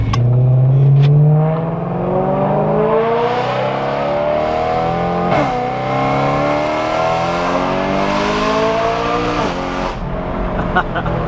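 A BMW E90 M3 engine revs hard and loud from inside the cabin, rising and falling in pitch as it accelerates, a deep roar filling the space.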